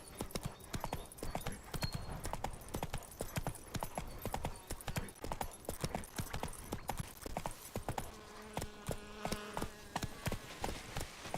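Horse hooves clip-clop in a steady, quick rhythm of sharp knocks while riding in The Witcher 3, close and clear over an ambient game soundscape, with a brief whinny-like tone near the end.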